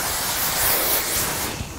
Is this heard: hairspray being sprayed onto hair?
yes